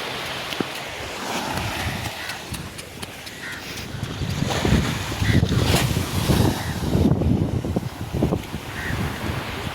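Gentle evening sea waves lap a beach in a continuous soft wash, with wind noise on the microphone and a few brief knocks and voices nearby.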